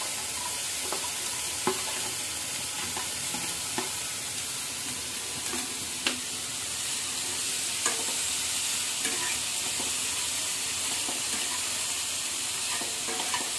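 Garlic and onion frying in a pan, a continuous close sizzle with occasional stirring clicks and scrapes of a utensil against the pan, steady and moderately loud with no talking.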